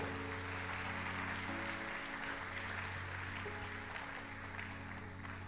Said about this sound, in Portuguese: Uma salva de palmas para a igreja do Senhor.